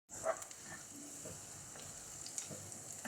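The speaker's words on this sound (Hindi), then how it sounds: "प्याज को 1 मिनट फ्राई करने के बाद इसमें ऐड करेंगे हाफ़ टी स्पून जीरा।" Onion and cumin fry in a pan with a steady, soft hiss and scattered small crackles, close by and continuous, with no one speaking.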